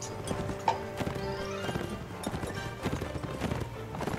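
Galloping horse hooves in the video game Mount & Blade Warband, a rapid, steady clip-clop running throughout amid battle noise, with a brief whinny near the start.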